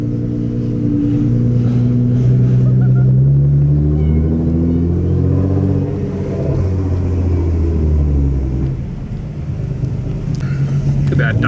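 Cars rolling past in a slow neighborhood car show parade, engines rumbling and droning close by with shifting pitch as vehicles pass, and a voice talks over the motor noise.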